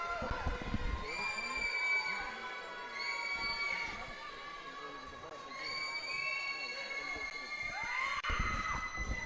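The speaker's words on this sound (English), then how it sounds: "Crowd erupts here at Upper Merion Area High School." High school girls basketball crowd in a gym cheering after a made free throw, a mixed roar of shouting voices and shrill whoops with a commentator talking over it.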